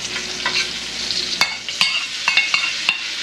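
Wood ear mushroom and carrots tumble into sizzling napa cabbage stew, a steady frying hiss near and loud, punctuated by several sharp clinks of a utensil stirring against the pan.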